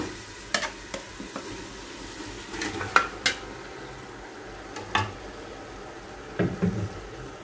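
Ginger garlic paste fries in a pan with a soft, continuous sizzle, broken by sharp metallic clinks and scrapes from a spatula stirring against the pan.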